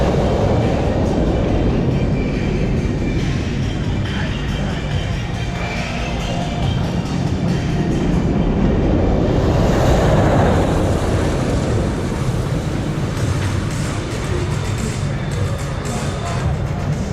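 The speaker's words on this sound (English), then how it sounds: "That's the roller coaster we about to go on next." The Top Thrill 2 roller coaster runs at Cedar Point in Sandusky, Ohio, a loud sustained rumbling roar of the train on track that swells midway, with crowd and ambient park noise around it.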